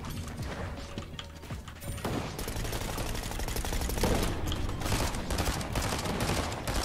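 Rapid SMG gunfire in Fortnite during a competitive FNCS match, dense mechanical bursts running almost continuously at steady loudness with no talk over them.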